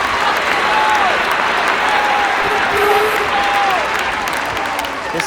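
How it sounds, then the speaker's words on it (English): Passengers aboard a train clap steadily and continuously, with faint voices mixed in and a few thin whistling tones rising above the applause. "all the passengers on board erupt in applause"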